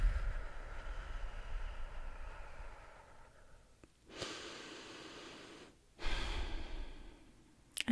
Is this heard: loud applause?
no